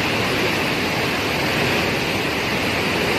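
Water from about ten open gates of Jurala Dam in Telangana rushes downstream as a loud, steady, unbroken roar of churning flow, with no voices.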